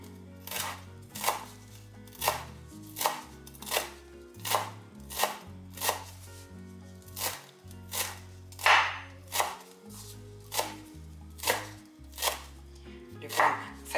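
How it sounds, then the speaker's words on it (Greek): A knife chops parsley for a chickpea salad, giving about seventeen crisp, evenly paced cuts on a board at moderate volume, close up with no talking. "Τώρα ψιλοκόβουμε και το μαϊντανό."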